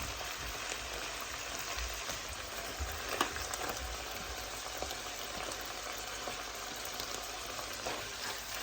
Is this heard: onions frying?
yes